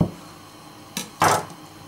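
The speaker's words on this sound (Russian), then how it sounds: "Я режу его всего на две половинки." A ripe, fleshy tomato is sliced in half with a knife, heard as two short cutting thunks against a board, the second louder and longer, with near silence between.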